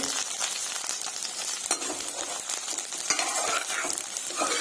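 Okra sizzles loudly in a hot pan as a utensil stirs and scrapes through it, a steady close hiss broken by occasional clinks.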